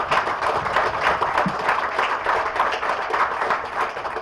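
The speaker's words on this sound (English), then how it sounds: "let's give all these guys and gals out here a round of applause" An audience applauds steadily, a dense wash of clapping that stays even and fairly loud throughout.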